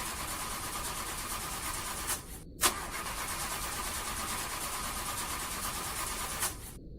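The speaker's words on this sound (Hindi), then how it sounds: "फरहान ने गाड़ी स्टार्ट करने की बहुत कोशिश की" A car that broke down mid-journey cranks repeatedly without catching, a steady starter whir running the whole time with two brief pauses between attempts, fairly close and alone.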